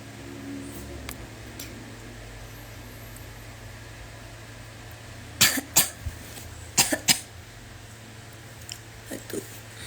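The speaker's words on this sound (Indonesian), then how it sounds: "Batuk tiba-tiba." Several sharp coughs break out in two quick clusters over a low background hum, followed by a couple of softer throat sounds.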